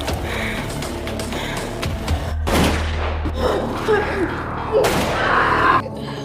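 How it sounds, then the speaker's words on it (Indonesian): Pistol gunshots in a film scene ring out as a few sharp, loud bangs with reverberant thuds between them, set against the film's background sound and some voices. "badut itu mengeluarkan pistol dan menembak kaki, kemudian perut Tara"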